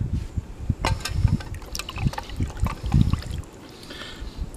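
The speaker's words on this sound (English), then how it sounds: "We've got our water boiling up." Water boils in a canteen cup with close, bubbly low gurgles and irregular splashy pulses over a few seconds, and no voices.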